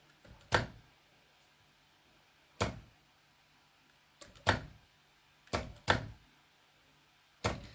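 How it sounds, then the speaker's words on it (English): Sharp mechanical clicks from an industrial sewing machine recur at uneven intervals, sometimes in quick pairs, over a low steady hum in a quiet room. "So that clicking noise you're hearing is the machine."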